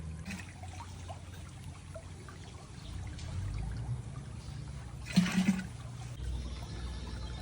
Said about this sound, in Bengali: এর ভিতরে পানি নিতেছি এই যে একদম ফ্রেশ পানি